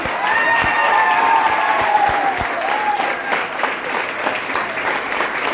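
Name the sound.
applause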